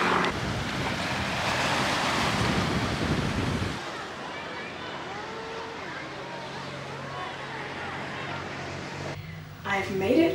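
Sea waves and wind on the coast near Gibraltar and Tarifa, with a loud rushing roar of surf and wind buffeting the microphone that drops away to a softer, steady wash of water.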